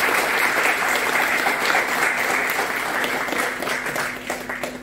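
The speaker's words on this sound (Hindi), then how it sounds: "ताली बजाएं" An audience at a college event bursts into sustained applause, a dense, loud wash of clapping that holds steady for several seconds before beginning to thin out.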